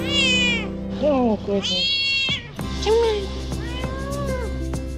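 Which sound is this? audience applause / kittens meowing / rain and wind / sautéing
kittens meowing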